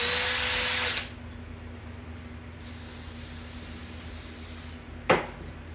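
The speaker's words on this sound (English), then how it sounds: "Nothing like a little brake clean and a wire wheel action." Brake cleaner sprays in a loud, close hiss onto a bolt for about a second, then stops. A steady lower hum follows, and a brief second spray burst comes near the end.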